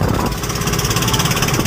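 A boat engine with its mounting raised slightly runs at a steady, loud, buzzing drone with a fast rhythmic pulse, close by and unbroken.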